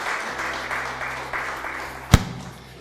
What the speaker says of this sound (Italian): Ancora un applauso, diamo così di respiro a tutti.